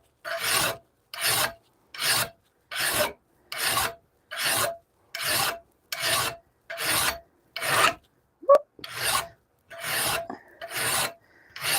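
A hand file rasps across a hand-forged Bowie knife in slow, even strokes, about a dozen separate loud scrapes with short pauses between them, close up and with no talking.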